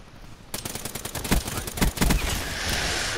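Gunfire in Call of Duty: after a brief quiet moment, rapid bursts of sharp shots crackle in quick succession, peaking in a few heavier bangs before fading into steady background noise, with no speech.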